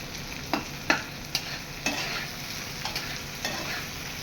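Eggplant frying with spices in a pan, stirred with a spatula: soft continuous sizzle under sharp scraping strokes that come every half second to second, close and fairly quiet.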